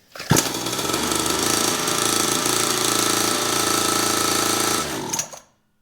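A freshly assembled dirt bike engine fires up after the key is turned and runs loud with a harsh rattling idle for about five seconds, then cuts off abruptly into silence.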